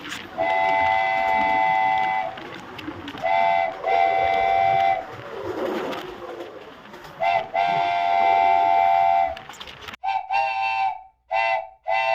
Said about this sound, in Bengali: আমরা এখন চট্টগ্রাম রেল স্টেশনে এসে পৌঁছালাম